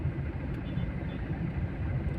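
Low, steady engine rumble from cars idling in road traffic, a continuous muffled drone heard close by without clear speech.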